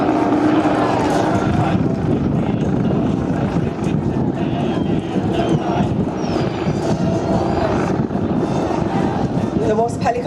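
Westland Wasp helicopter at the Clacton-on-Sea air show in Essex, its rotor and engine giving a steady, loud, broadband roar that continues throughout, with a voice talking over it.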